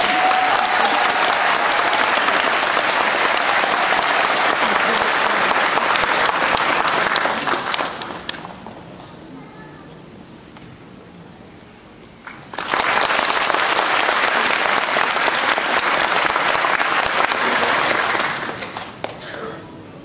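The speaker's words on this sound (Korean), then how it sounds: "큰 박수 부탁드립니다." A large audience applauds at a Won Buddhist New Year ceremony in 2012. Loud, dense clapping fills the hall, eases briefly, then surges again and gradually trails off.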